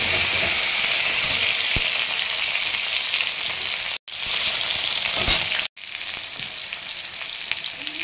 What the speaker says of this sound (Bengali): এবার দিয়ে দিচ্ছি কালো জিরে ফোড়ন, চলো দিয়ে দিচ্ছি টমেটো